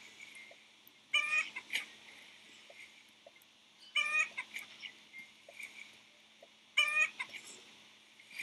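Chickens in an egg-farming video game, three short bursts of clucking spaced about three seconds apart, faint and clear over a quiet background with no talking.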